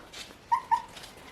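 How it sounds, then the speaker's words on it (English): Newborn puppies let out two short, high whimpers close by, over soft background noise. "We have 3 beautiful puppies."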